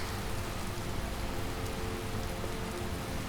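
Steady, dense rainfall in the video game Skyrim, a constant hissing patter with no pauses or other sounds.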